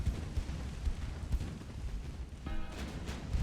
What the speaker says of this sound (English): Gunfire from the Frederick, slowly reducing.